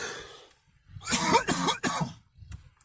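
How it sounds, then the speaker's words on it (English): A few harsh, rough coughs come in a quick cluster, close to the listener, followed by a short trailing cough after a pause. "this is gonna have to be done soon because the cough is coming"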